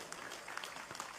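An audience at an Indonesian religious sermon gives a short burst of applause, a quiet, distant patter of many hands clapping at once.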